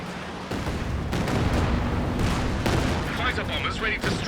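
A Nebelwerfer rocket artillery barrage lands in Company of Heroes 2, a dense rolling series of blasts and booming impacts with a crackling rush of rockets that continues throughout.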